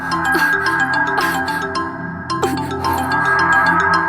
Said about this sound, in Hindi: लो, फिर फोन आ गया।